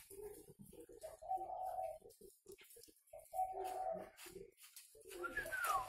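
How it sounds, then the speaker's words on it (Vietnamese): Spotted doves cooing in a backyard bird garden, soft repeated low coos at close range mixed with a voice talking. "Còn đây là những chú chim giống của mình."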